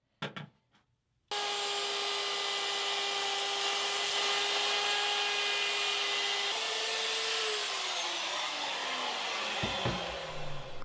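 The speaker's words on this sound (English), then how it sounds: "So I'm routing out a groove around the inside of the bottom" A power router cuts a groove into the inside of a construction-lumber cart bottom, starting with a sudden loud whine after a short quiet bit and holding a steady high-pitched roar and hiss that shifts in pitch near the end.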